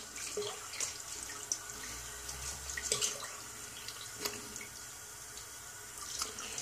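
Tap water runs steadily while a safety razor is rinsed under it, a faint continuous splash with small drips and light clinks scattered through, no voices.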